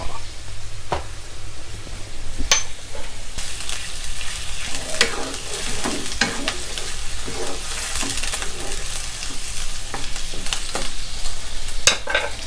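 A Thai-style gravy sauce for Hong Kong-style rad na with marinated pork, seasoned with light and dark soy, bubbles hard in a wok, giving a steady close sizzle broken by sharp clinks and scrapes of a utensil stirring.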